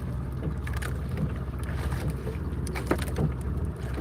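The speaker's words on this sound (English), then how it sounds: "Sounds like a big boat, big engine." A big boat powered by a large diesel engine cruises past, a low steady throbbing rumble mixed with wind noise on the microphone, moderately distant and continuous throughout.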